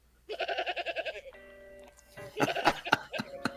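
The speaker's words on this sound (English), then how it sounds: "You can't just give anybody the goat sound." A goat bleat sound effect plays, a fast, quavering close bleat, followed by laughter and people talking.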